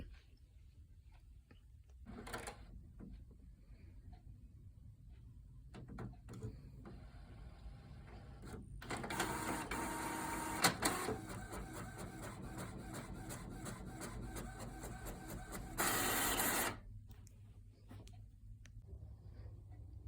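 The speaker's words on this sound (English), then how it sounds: "it will send to the printer after we hit the print button" A printer runs quietly, with mechanical whirring and rhythmic rubbing feed passes building in the middle and a brief louder burst near the end, then settling back to faint room noise.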